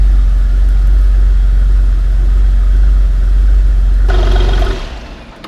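Rare Porsche 993 Turbo S engine running, a loud, deep steady idle rumble that holds for several seconds before cutting off and fading to quiet.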